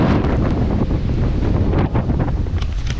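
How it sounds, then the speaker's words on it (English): Strong wind buffets the microphone at a motocross track, a loud steady rumbling blast with gusty surges throughout and no talk. "It's a little windy today."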